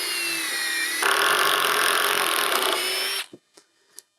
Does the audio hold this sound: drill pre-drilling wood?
yes